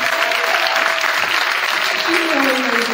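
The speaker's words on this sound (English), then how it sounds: "special round of applause for Catherine" Applause from a crowd in a high school gym at a varsity boys' basketball game, a dense, steady wash of clapping lasting the whole moment, with some voices and cheering mixed in.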